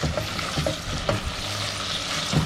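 Mutton with green chillies roasting in a pan for an Eid mutton zafrani pulao: a continuous close sizzle with periodic stirring scrapes and knocks, no voices.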